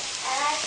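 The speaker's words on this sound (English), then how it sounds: "We got bacon and onion in there already frying." Bacon and onion fry in a pan as part of a bean dish, giving a brief, dense, steady hiss of sizzling fat close up.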